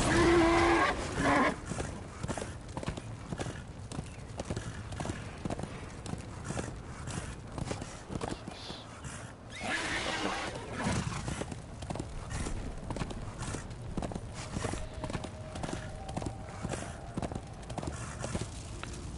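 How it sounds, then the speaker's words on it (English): Horse hooves clip-clop steadily in the video game Darksiders 2, a repeating walking rhythm of hoof strikes heard up close alongside game music and ambience, with no talk over it. "This is no place for a horse."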